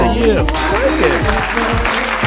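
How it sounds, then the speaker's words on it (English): Steady applause from a small group, continuous clapping throughout with voices faintly mixed in underneath. "Clap that up"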